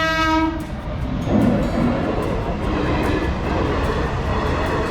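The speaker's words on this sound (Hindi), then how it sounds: "ट्रेन भी एकदम स्टाइल में निकल गई और हमने भी वहाँ पे रोड क्रॉस कर लिया फटाफट।" A train rolls past a level crossing on the Jaipur to Indore route, its horn blaring loudly at first before giving way to the steady clatter and rumble of wagons passing close by.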